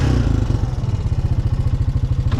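A Honda Foreman 500 ATV engine idles steadily with a rapid, even chugging pulse, loud and close, with no talking.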